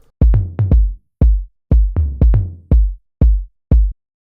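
Deep, booming low tom hits play in a loose rhythmic pattern, about ten thuds with short decays, the last ones sounding lower in pitch.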